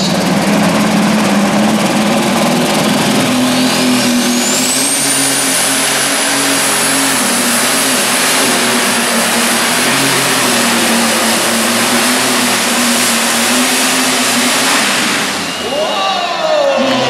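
A superstock pulling tractor engine roars steadily under heavy load for a long stretch at an indoor tractor pull in Rotterdam, with a rising high whine and a crowd's murmur in the background.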